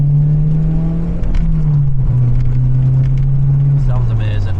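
Modified Mazda MX-5 with an aftermarket back box exhaust, idling and revving steadily with a deep drone that dips slightly, close by and loud, with people talking faintly over it.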